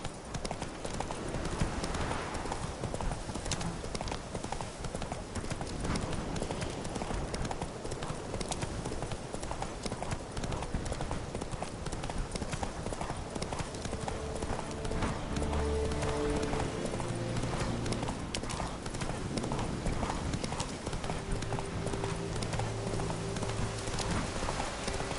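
Roach, the horse in The Witcher 3, trots with a steady, even clip-clop of hooves, close and continuous, over soft rustling ambience, with brief low tones and faint background sounds in the latter half.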